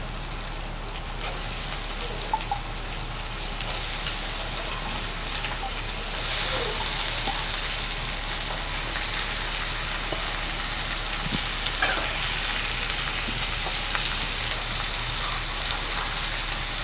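Taro stolons dropped into softened onions in a frying pan give a steady, close sizzle with a dense hiss that holds evenly throughout and has no voices.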